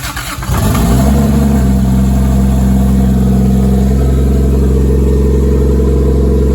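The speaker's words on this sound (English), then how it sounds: "I'm gonna real quickly get this thing fired up" A turbocharged Toyota 2JZ-GE engine cranks and catches, rising into a loud, steady rumble that settles into a constant low idle around 1300 rpm.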